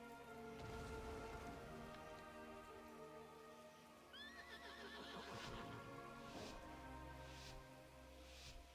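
A donkey in a video game brays in a rising, wheezing cry near the middle of a busy game soundscape full of music, rain-like hiss and other creature noises.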